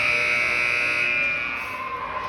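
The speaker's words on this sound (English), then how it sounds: "when the buzzer rings at the end of the period, you don't have to shut it off" A loud, steady electronic arena scoreboard clock buzzer sounds without a break for the whole moment, marking the end of a period, close and unwavering, with no voices.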